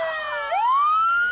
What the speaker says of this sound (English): Bring in the screams and the naked gun siren.